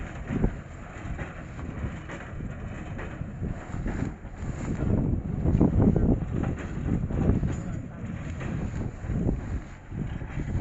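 A hay baler packs thick rice straw in a field, its piston knocking in a loud, steady, low rhythm over engine rumble and wind buffeting the microphone.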